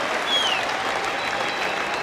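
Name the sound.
cricket crowd cheering and applauding at Lord's Test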